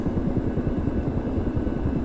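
Ka-50 Black Shark attack helicopter in a flight simulation game, engine and rotors running at speed after startup: a steady, loud low rumble with a fast, even rotor throb throughout, no other sounds on top.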